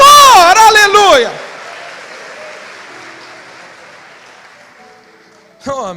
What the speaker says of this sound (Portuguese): Então dá um aplauso e glorifica alguém que você serve junto com a sua família ao Senhor.